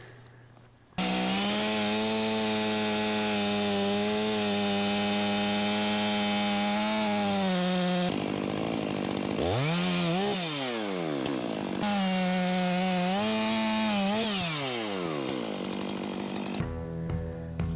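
Chainsaw trimming a clean butt log being prepared for a Wood-Mizer sawmill, loud and close, with a steady high roar, a brief drop in revs partway through, then cutting again before stopping.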